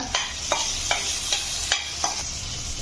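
Spices being stirred into onion and tomato in a pan for spicy vegetable pulao, a spoon scraping in about six evenly spaced strokes over a steady soft sizzle, close and clear with no voices.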